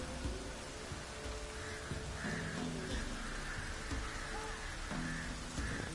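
Steady rainfall in The Witcher video game, a continuous hiss of drops on surfaces with faint tonal ambience underneath, unbroken throughout.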